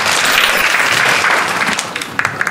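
Loud, dense applause from an audience welcoming a college dean at a vocational school project and creativity competition final, steady at first, then thinning into a few scattered claps near the end.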